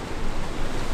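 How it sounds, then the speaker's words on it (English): Waves break and wash into a small rocky cove on Vikten Beach in Lofoten, a steady, full surging roar with no voices, heard close and continuous through a short span. "the waves are breaking in there"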